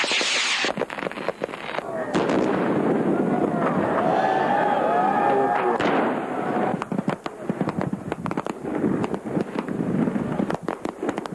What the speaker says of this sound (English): Fireworks, fire bombs, and all things that go boom in the night.